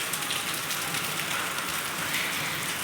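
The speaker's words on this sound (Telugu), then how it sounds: "రాళ్ళ వర్షం పడుతుంది" Hail and heavy rain batter hard surfaces in a Hyderabad hailstorm, producing a thick, unbroken rattle and hiss that stays loud and even throughout.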